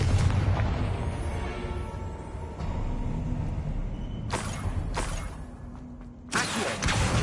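A Confringo fire spell explodes in the Hogwarts Legacy video game, bursting in a series of loud booms and sharp blasts amid rumbling magical effects, with several distinct hits near the end.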